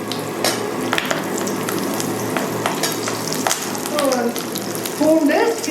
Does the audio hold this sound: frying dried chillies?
yes